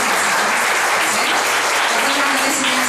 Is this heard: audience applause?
yes